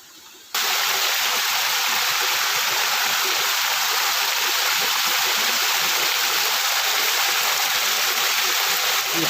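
Water flowing out of the Goriyara dam outlet, fresh hill water: a loud, steady, broadband rushing roar like a stream or small waterfall, starting abruptly after a moment of near-silence and continuing unbroken.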